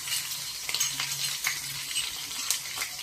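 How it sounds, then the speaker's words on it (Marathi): Garlic dropped into a mustard-seed tempering for traditional ambadi greens sizzles softly and steadily in the pan, broken by a few light stirring clinks of a spoon against metal. "ह्या भाजीला आज आपण लसणीची फोडणी घालणार आहोत."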